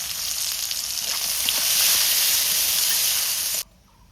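Tomato hits hot oil seasoned with dried red chili, whole cumin and bay leaf, giving a loud, steady sizzling hiss that lasts several seconds and then drops away sharply.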